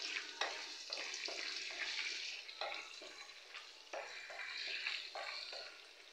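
Peanuts frying in a pan for pulihora crackle and spit in quick bursts with brief pauses between them, a bright, close sizzle that lasts the whole stretch with no talking.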